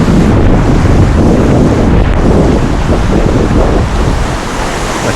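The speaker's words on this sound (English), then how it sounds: "Amazing how windy it is down here." Strong, steady wind roars across the microphone near a waterfall in East Java, with a broad rushing noise that stays loud and constant throughout.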